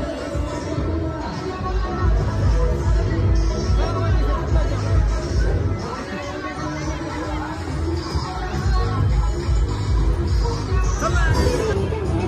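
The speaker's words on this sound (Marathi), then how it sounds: "इथं खूप गर्दी आहे पाहू शकता तुम्ही बघा वळणा आणि लोकांची खूप अशी मोठी गर्दी आहे" Steady murmur of a large crowd at the Shri Sant Shekh Mohammad Maharaj fair in Shrigonda, many overlapping voices and children's calls blending into a continuous near hubbub.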